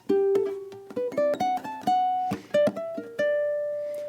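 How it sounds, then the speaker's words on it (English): Plucked ukulele notes in a gypsy jazz waltz line with unmuted open strings left ringing behind them, each note sounding clearly and decaying, alone with no talk. "I may get some open strings ringing out in the backdrop"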